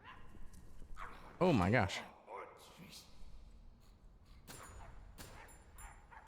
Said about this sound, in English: Barking, you can hear him.